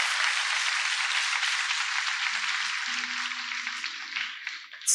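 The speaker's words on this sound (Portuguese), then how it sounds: "E dê um aplauso bem forte ao Senhor dos Exércitos." A church congregation applauds together, a sustained wash of dense clapping that stays steady and fairly loud throughout, with faint low tones underneath.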